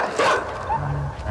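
A dog barking in a platform video game, short yips and barks mixed into busy game sound, with people talking over it.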